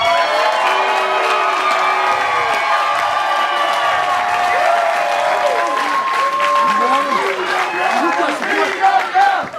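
Biggest crowd ever at the Mid-Atlantic Sportatorium for a CWF wrestling event, cheering, shouting and applauding in a loud sustained roar, with individual whoops and yells rising more sharply toward the end.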